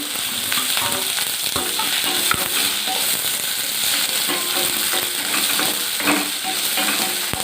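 Mustard seeds, urad dal and chopped onion frying in hot oil for a Tamil-style tempering, a loud steady sizzle with crackling pops and scraping stirs throughout.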